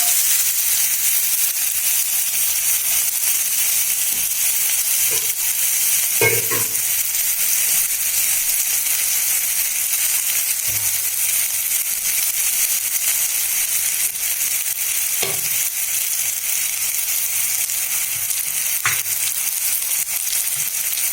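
Boiled cauliflower frying in hot oil, giving a steady bright sizzle and hiss throughout, with a few brief pops and clatters breaking through at intervals.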